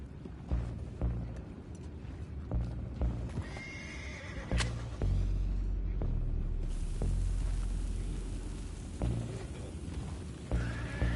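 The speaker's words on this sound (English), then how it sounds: "I have the horses under control" Horses in the video game Red Dead Redemption 2 neigh and whinny loudly while hooves clip-clop beneath, with a deep rumbling surge midway and several sharp whinnies standing out, no talking.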